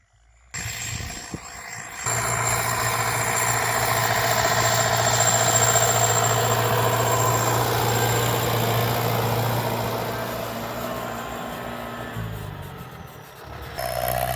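Tractor engine running in a muddy rice field, a loud steady low drone with vibration that rises in after a brief start, holds for over ten seconds, then eases and dips near the end.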